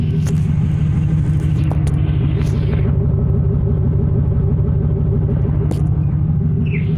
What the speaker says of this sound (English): That's the exhaust. Well, that's the broken muffler.